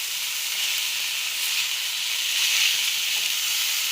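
Ingredients for Marathi-style tomato chutney roasting in a pan until they change colour, a continuous close hissing sizzle that swells slightly midway, steady and unbroken with no voices.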